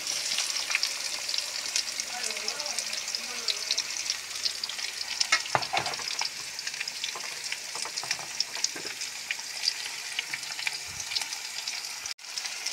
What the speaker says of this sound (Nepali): मेरो चाहिँ यसरी तेल खरिसकेको छ। अब मैले यो काटेको प्याज र टमाटरलाई सट्टै